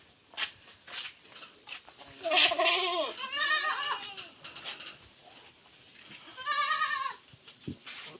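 Goats on a small goat farm bleating, a few loud wavering calls rising from nearby over quieter farmyard background noise, with short pauses between the cries.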